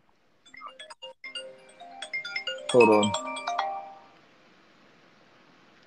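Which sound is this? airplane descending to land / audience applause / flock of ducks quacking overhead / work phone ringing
work phone ringing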